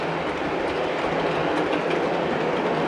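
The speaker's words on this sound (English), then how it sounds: "The sound system goes into that clickety-click mode." A model train running in its sound-system mode with graffiti-covered subway cars on the layout, giving a continuous steady rumbling clatter that is loud and even throughout, with no voices over it.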